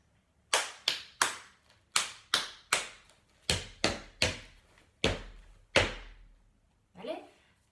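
Hands clapping and slapping out a body-percussion rhythm in a children's rhythm lesson, about a dozen sharp close hits in groups of three with short pauses, ending with a softer thump.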